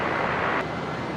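Nauru Airlines Boeing 737-300 Classic arriving at Brisbane International Airport from the Gold Coast, a steady broadband jet engine roar at moderate distance, sustained without a break for about a second.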